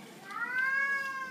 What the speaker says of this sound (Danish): Det var den kat.